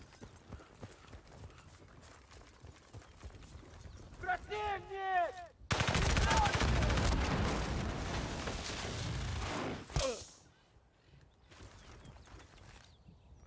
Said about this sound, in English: They do have a fucking turret.